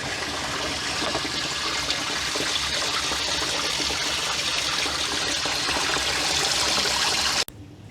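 Water pours steadily into a reef aquarium as it refills after a water change, a constant close splashing rush that cuts off abruptly at the end.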